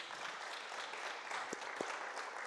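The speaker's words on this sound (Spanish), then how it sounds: "Démosle palmas al Señor, hermanos" A congregation gives a steady round of hand clapping in praise during a Spanish-language church service, soft and distant, with a couple of sharper individual claps standing out.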